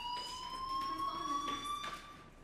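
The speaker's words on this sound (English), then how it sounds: "Hey, do you hear that fire alarm?" A fire alarm ringing in the video game Life Is Strange, a steady high electronic tone with pulsing overtones, moderately loud and continuous, with faint background sound beneath it.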